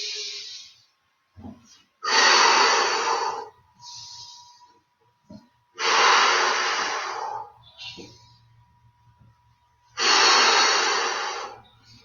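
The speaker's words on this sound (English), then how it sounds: "Exhale, push out. Feel a little power as you exhale and push out." Deep, forceful breathing during a mobility and flexibility exercise routine: three long, loud exhales come at a steady interval, separated by quieter, shorter inhales and pauses, with no talking.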